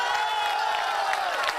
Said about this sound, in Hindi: इनके लिए भी ताली बजाओ जोर से भाई